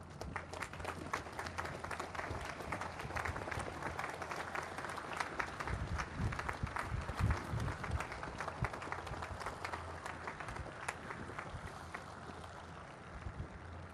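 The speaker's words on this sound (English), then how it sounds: "we give them a round of applause" A crowd at the USS Ralph Johnson commissioning ceremony in Charleston, South Carolina gives spouses and children a sustained round of applause, with dense steady clapping and some wind noise.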